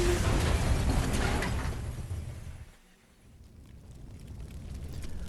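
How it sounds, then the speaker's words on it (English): A truck slams into a car in a dramatic crash effect, a loud, dense burst of shattering and crunching impact that fades to a brief lull near the middle before the noisy wreckage swells again. "The truck crashes into the car and flees in a panic."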